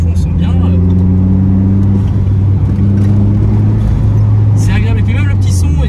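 Swapped Renault Super 5 GT Turbo engine droning steadily while driving, a loud continuous low hum from inside the cabin with faint higher whines near the end.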